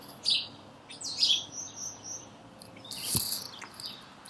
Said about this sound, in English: These birds is out here